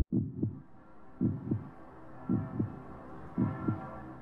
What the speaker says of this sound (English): I've heard that heartbeat sound a million times.